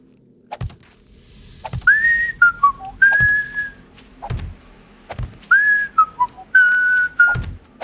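A person whistles two short repeated melodic phrases, close and clear, amid periodic dull thumps from digging in the video game 7 Days to Die.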